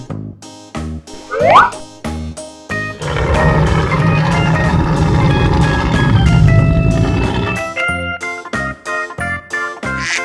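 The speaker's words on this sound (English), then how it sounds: "Lion." A lion roars in a long, loud, rumbling call lasting several seconds, heard over a busy, jingly backing track with chimes and percussion.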